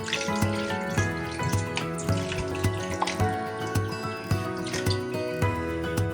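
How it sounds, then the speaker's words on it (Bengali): Water poured into a thin curry of snakehead fish with tomato as it cooks in a pot, a close, steady splashing and trickling that runs for several seconds without speech. "জল দেব।"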